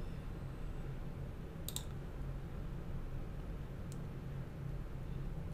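Two sharp computer mouse clicks on a software tool, one at about the middle and a fainter one later, over a steady low background hiss.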